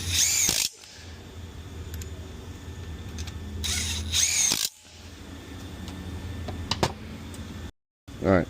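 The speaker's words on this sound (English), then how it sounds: "These bolts are typically just tightened down with a gun." A power gun drives bolts on a 6L80E transmission during assembly, firing in two short, loud, close bursts with a quieter workshop hum and light clicks between them.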